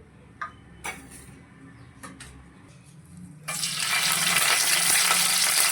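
A few light clicks and taps, then hot oil in a pan suddenly bursts into a loud, steady sizzle as tempering spices and curry leaves hit it, close up.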